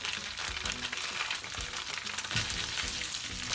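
Eggplant and tofu frying in a pan over medium heat for Japanese miso dengaku, a steady close crackling sizzle with occasional pops and soft scraping, no voices.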